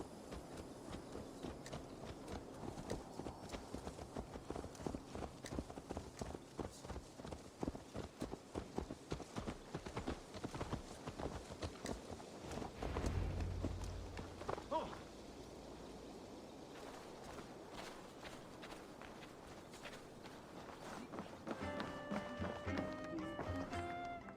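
A horse's hooves clip-clopping steadily in Assassin's Creed Valhalla, a rapid even walking rhythm that runs for most of the stretch, then slows into scattered taps and thuds with brief game sounds near the end.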